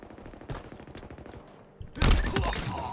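Rapid bursts of BR rifle fire in Halo Infinite, a close run of sharp cracks that swells into a dense, loud volley of overlapping shots near the end.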